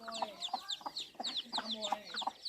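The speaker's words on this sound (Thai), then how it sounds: "ส่วนนี้ก็เป็น พวกเป็ดพวกไก่นะครับ" Chickens and ducks on a small mixed farm cluck and chatter in a steady, repeated series of short calls, close by.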